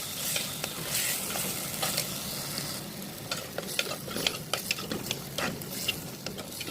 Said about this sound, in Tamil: நம்ம இந்த ஸ்டேஜில் நறுக்கி வச்சுருக்கிற தக்காளியை சேர்த்துடலாம்.